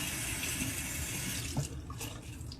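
Water runs steadily from a sink tap while a face is rinsed, a soft continuous splashing stream that thins slightly near the end.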